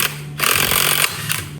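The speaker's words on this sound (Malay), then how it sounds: "Itulah bunyi letupan bila magnet tercabut." A sharp mechanical clatter bursts in over a steady low hum as a rotor magnet pops off, a loud rattling snap that cuts off abruptly, with a smaller burst just after.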